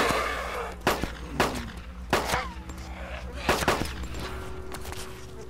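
Gunfire in the video game DayZ as players shoot at zombies: several sharp shots spaced a second or so apart, fairly loud over a steady low game hum.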